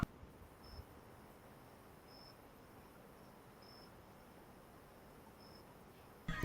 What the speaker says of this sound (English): Literal crickets.